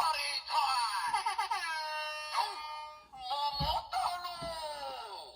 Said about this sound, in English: now there's also additional firing sound